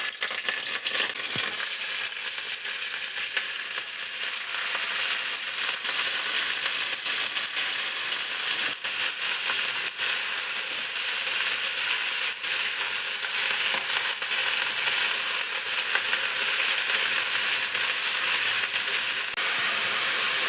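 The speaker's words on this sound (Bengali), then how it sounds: "তাই আমরা একটু কালো জিরা তেলের মধ্যে দিয়ে আর শুকনো লঙ্কা ফোড়ন দিয়ে বাঁধাকপিটা ভাজা ভাজা করে নেব।" Cabbage fries in hot oil with black cumin and dried chili in a loud, constant sizzle that runs unbroken throughout, with only a few faint clinks over it.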